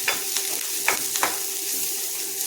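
Crushed garlic clove and onion sautéing in a pan for a black-eyed pea and brinjal curry, a continuous close sizzle with a few light stirring clicks.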